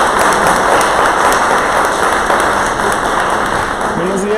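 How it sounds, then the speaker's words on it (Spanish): Audience applause welcoming speakers onto the stage at a Spanish-language talk, a steady dense wash of clapping filling the room for several seconds and easing slightly at the end. "Les pido que los reciban con un gran aplauso"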